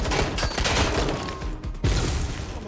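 Dense gunfire in the video game Watch Dogs Legion, a loud continuous barrage of overlapping shots with a sharp burst near the end, close and without speech.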